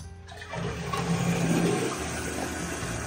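Household toilet flushing, a loud rushing surge of water that settles into the steady hiss and trickle of the tank refilling, close by and alone.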